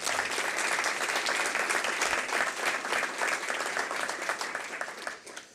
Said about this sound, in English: I think that deserves another round of applause for